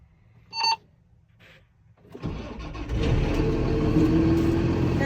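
Farm tractor engine being started: a short click and a faint stir, then the diesel cranks, catches and settles into a loud, steady idle, close by with no talking.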